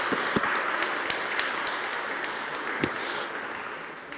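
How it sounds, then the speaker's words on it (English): A church congregation gives a reader steady, moderate applause, a soft wash of many hands with a few sharper claps standing out, fading slightly at the end. "Let's give her a clap."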